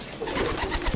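Pigeons coo on a Maltese rooftop where they roost in a small pigeon house, a soft, close, steady murmur of calls lasting only a moment.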